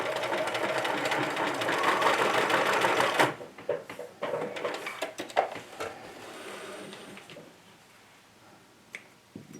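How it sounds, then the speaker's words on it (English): Sewing machine stitching a small McCall's wallet or wristlet loop near a metal ring, a steady close mechanical run for about three seconds, then scattered ticks and handling clicks as stitching stops. "Don't hit the metal ring with your sewing machine needle."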